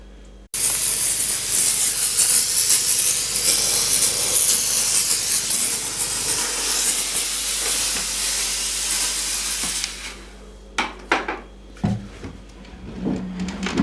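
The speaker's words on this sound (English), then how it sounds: "It's going to be just a very short sort of burst of steam on there." A steamer sprays a loud, steady hiss of steam onto a slouch hat for several seconds, then cuts off, followed by a few soft clicks and handling noises.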